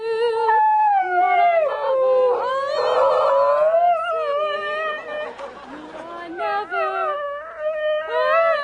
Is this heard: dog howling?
yes